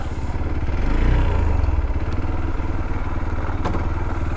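A motorcycle engine idles in a steady low rumble with a faint rattling clatter, close and fairly loud throughout, with no talking.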